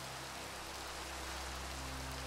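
Steady rain falls in Minecraft, a continuous even hiss of rainfall with a faint low hum beneath it and no other sounds breaking through.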